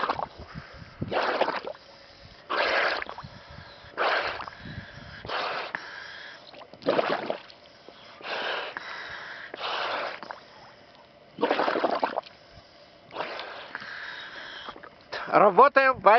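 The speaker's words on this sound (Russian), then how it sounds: "Попытка поставить регулятор буша 200 на фрифлоу при дыхании на поверхности." A Beuchat 200 scuba regulator breathed at the surface in freezing air gives repeated hissing inhales and exhales at a steady rhythm, close and clear, ending with a brief burst of gurgling flow.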